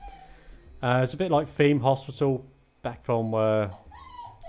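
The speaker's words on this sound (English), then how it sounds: "Sorry for the dog noise in the background." A dog whimpers and barks somewhere in the background of a room while someone talks over it, his voice staying in front and the dog's whines cutting in briefly.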